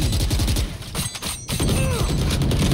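Gunfire in the tactical shooter Valorant: a dense burst of shots with a rapid spray, a short gap, then more shots continuing over the busy, layered game sounds.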